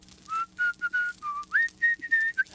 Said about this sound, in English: whistling Waltzing Matilda, a famous Australian song